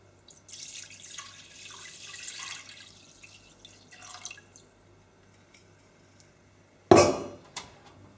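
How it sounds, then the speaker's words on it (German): Two litres of milk poured into a cooking pot while making homemade cream cheese: a soft, steady liquid pour for several seconds, then quiet, ending with a sharp clank and a smaller knock close by. "Als allererstes gießen wir die 2 Liter Milch in den Topf."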